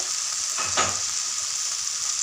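Thankuni greens sizzle steadily in a pan, with a single brief scrape of stirring rising over the constant hiss before the frying settles back.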